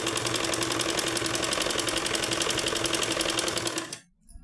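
Sewing machine stitching piping onto fabric, a steady fast mechanical whir with rapid regular needle ticks running continuously for about four seconds before stopping abruptly.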